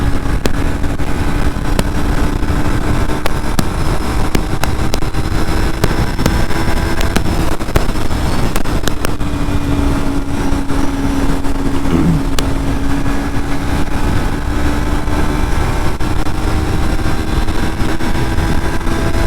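A motorcycle engine drones steadily while riding along the Bebek shore in Istanbul, its pitch rising slightly with throttle, under constant rushing wind noise.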